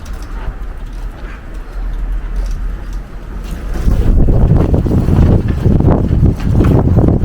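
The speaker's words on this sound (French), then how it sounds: "Bon, il y a du vent." Strong wind blowing outdoors on a sunny day, a steady rushing roar that buffets the microphone, rising noticeably louder and gustier midway through and staying strong to the end.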